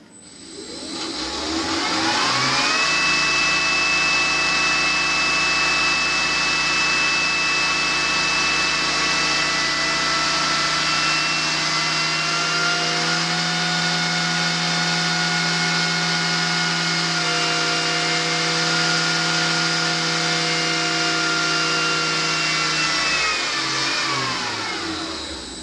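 A PM30 milling machine spindle running on its stock bearings at 9,100 RPM, a steady loud high mechanical whine with harmonic tones that spins up, holds for about twenty seconds and winds down.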